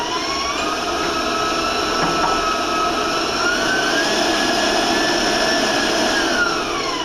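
An electric mixer beats vanilla into sugar cookie dough, a loud, steady motor whine running close and unbroken, with its pitch shifting slightly partway through.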